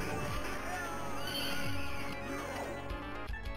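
A horse whinnies in the 1991 arcade game Knights of the Round, a loud synthesized neigh over game music and sound effects.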